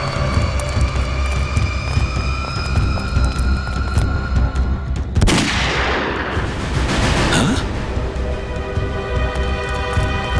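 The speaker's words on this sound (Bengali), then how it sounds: "গুলি চলার শব্দ।" Gunfire in a crime-drama scene: one loud, sharp blast midway through, then a rumbling decay and a second crackling burst, all over a constant droning background.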